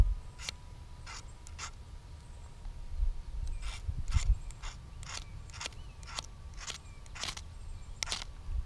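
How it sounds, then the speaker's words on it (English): A ferro rod striker scrapes repeatedly in quick, irregular rasping strokes while throwing sparks onto lighter wood shavings outdoors, each stroke close and crisp over a low rumbling background. "I'm going to try and throw a spark in there."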